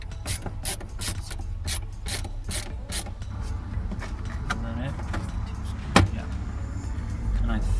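Trim is pried off a van door with a screwdriver or pry bar, giving a run of sharp rapid clicks followed by scraping and one loud snap near the end, close to the ear.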